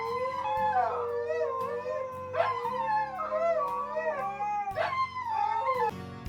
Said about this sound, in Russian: лают редко, а вот выть будут с удовольствием.